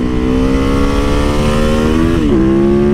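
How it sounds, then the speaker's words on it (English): A Triumph Bobber motorcycle accelerates hard with a loud, close engine tone rising steadily, then a brief dip like a gear change before the pull carries on. "And this bike rips to it in no time."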